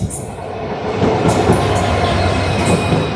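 An ICF passenger train running near Pamban Bridge between Rameshwaram and Chennai, giving a loud, close, continuous rumble of wheels on rails with faint high squeals.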